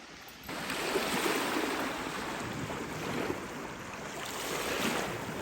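Waves roll onto the shore of Lake Superior in a broad, continuous rush of surf, rising and falling gently, with some wind buffeting the microphone and no talking.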